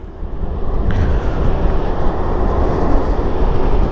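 A steady broadband road rumble and tire hiss come from a PURE EPluto 7G electric scooter riding at speed, a continuous whooshing drone with no motor whine or voices.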